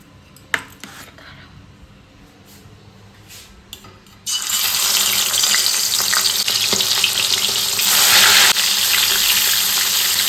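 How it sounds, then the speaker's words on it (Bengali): Fish heads dropped into hot oil, a few clinks and quiet handling sounds at first, then a sudden loud spitting sizzle that bursts in and keeps crackling strongly, growing even fiercer near the end. "এখন মুড়োগুলো ভাজতে দিয়েছি"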